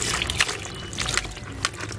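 Lukewarm water poured over a dog during a bath, splashing and trickling in uneven bursts close by with short sharp spatters.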